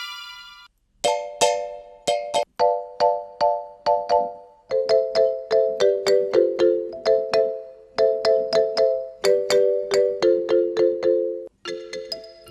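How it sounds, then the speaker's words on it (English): A Korg Triton VST mallet preset played in FL Studio, bright bell-like struck notes forming a rhythmic melody of quick repeated hits that change pitch, clean and alone. "Then let's go to the mallets, the pom pom sound."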